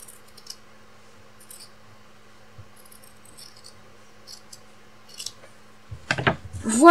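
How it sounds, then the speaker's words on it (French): Scissors cut through folded fabric for a retro apron, giving a short, close burst of crisp snipping near the end after a long, quiet stretch with faint background hum. "Je peux couper mon tissu sans rajouter de marge"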